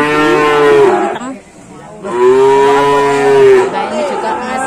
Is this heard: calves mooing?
yes